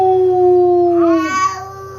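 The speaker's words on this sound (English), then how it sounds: "All right, Claire, let's make Dancler howl" A dog's howl rises in a long tonal wail and slides up near the end, loud and close, sounding over a steady low background tone.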